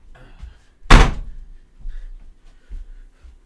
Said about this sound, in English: let me just go and shut this door